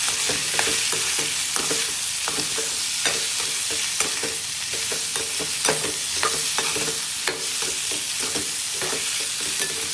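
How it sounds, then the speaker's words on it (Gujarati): Turmeric, salt and sugar are stirred into farali dry potato sabzi frying in a pan: a steady, close sizzle with frequent spoon scrapes and clicks throughout. "હવે આપણે તેમાં થોડી હળદર, સ્વાદ અનુસાર મીઠું અને ગુજરાતી હોય એટલે થોડી ખાંડ ઉમેરી સારી રીતે મિક્સ કરી લઈશું."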